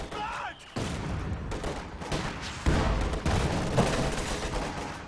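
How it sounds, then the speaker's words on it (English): Machine gun fire in Company of Heroes 2, guard squads in a church firing LMGs in dense bursts of rapid gunfire with booming impacts, loud and continuous, mixed with other battle noise. "Guards in the church firing away on these LMG greens."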